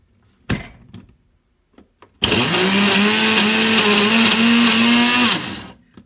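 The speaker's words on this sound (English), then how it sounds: "I came over here to my little Ninja, and here we go. I'm going to go ahead and blend it up." Ninja blender churning a homemade Dairy Queen-style turtle pecan cluster Blizzard ice cream, starting after a couple of clunks and running loud and steady for about three seconds before winding down.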